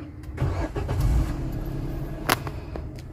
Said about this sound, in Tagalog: Paandarin natin yung makina.